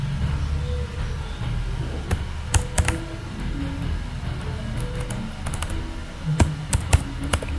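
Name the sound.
typing on a computer keyboard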